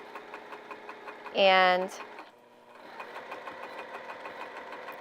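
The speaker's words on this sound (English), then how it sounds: "you're just sewing those fabric layers together" A sewing machine stitches fabric layers of a heart-shaped potholder with insulated lining, a steady rapid mechanical whir that stops briefly as a short word is spoken and a louder squeak sounds, then resumes.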